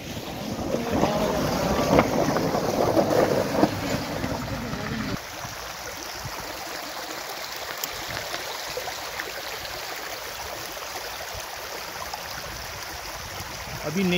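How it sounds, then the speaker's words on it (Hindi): Water rushes steadily in a stream at Jim Corbett, a continuous broadband hiss with wind buffeting the microphone, louder and fuller in the first few seconds and then settling to a softer, even flow. "ये पानी का संगीत है"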